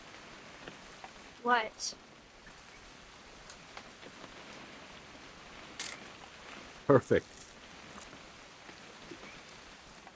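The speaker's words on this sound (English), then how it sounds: "It's gonna rain the whole weekend, isn't it?" Rain falls in the video game What Remains of Edith Finch, a faint, steady patter under a few brief spoken words and short game sounds.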